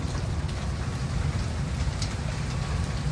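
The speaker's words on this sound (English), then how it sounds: "You hear the rain and the thunder?" Steady rain pours on outdoor surfaces during a thunderstorm, a dense continuous hiss with a low rumbling undertone of thunder throughout, no voices present.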